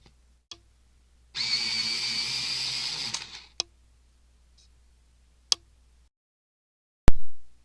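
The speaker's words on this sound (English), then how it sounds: "I'm going to sharpen the white." A white colored pencil being sharpened in an electric sharpener, giving one steady, close whirring grind of about two seconds, then a few sharp clicks and taps in otherwise quiet surroundings.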